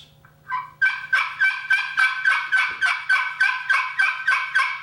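A glass friction turkey call gives a rapid, regular run of about a dozen loud, raspy yelp-like notes, close and alone after a few softer starting clucks.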